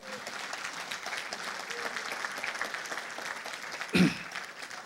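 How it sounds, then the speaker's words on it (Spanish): A church congregation applauds during a sermon with a steady, moderate wash of clapping from across the room, interrupted by a brief low thump near the end. "Dele ese fuerte aplauso al Señor."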